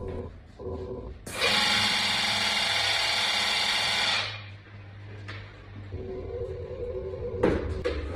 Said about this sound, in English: The machine starts to pressurize.